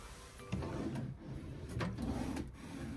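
Drawers in a cruise ship cabin on the Anthem of the Seas slide open and shut nearby, giving wooden rubbing and sliding sounds with soft bumps and no talking.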